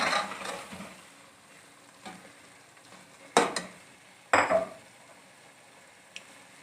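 Khoya being mixed into carrot halwa in a pan, heard as soft scraping stirs with a couple of louder spoon knocks against the pan midway, then a faint tap at the end, otherwise quiet.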